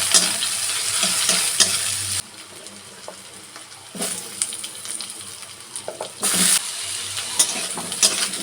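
Chachchari greens stir and fry in a pan, a soft crackling sizzle broken by scraping spatula strokes, with quieter pauses between bursts and faint running water.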